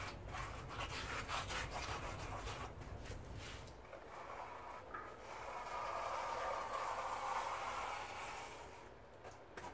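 Wet grout sponge squeezed and scrubbed over freshly grouted tiled stairs, a close, continuous gritty rubbing and swishing that shifts in texture partway through.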